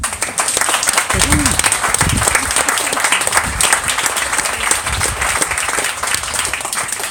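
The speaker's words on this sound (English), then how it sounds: "Can I have a round of applause?" A room of guests gives a round of applause during a speech, steady clapping from a crowd with some voices mixed in underneath.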